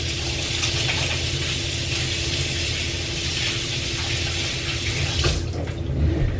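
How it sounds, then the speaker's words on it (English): Tap water runs steadily into a sink as hands are washed after peeling an orange, a continuous close splashing hiss with a brief clatter near the end. "let me wash my hands real quick to get the orange off"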